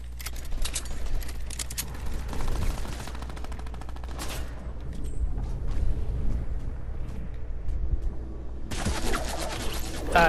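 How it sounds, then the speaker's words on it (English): Gunfire in the Fortnite video game, including an automatic sniper rifle, with bursts of shots over a steady low rumble, a loud burst at the start and another sharp volley near the end. "Who's shooting at me?"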